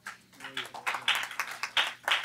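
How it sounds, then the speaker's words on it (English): Hands clap in a quick, steady run of sharp bursts during a church service broadcast, close and fairly loud, with a voice heard briefly at the start. "I feel like clapping my hand,"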